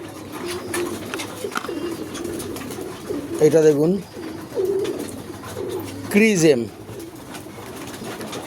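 Pigeons coo close by in two clear rounds of soft, throaty calls, while a person speaks intermittently over a quiet indoor background.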